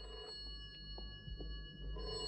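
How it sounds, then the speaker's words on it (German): A telephone bell rings faintly in a scene from the German-dubbed TV series The Persuaders, short repeated rings over a soft steady background hum without speech. "Das Telefon klingelt."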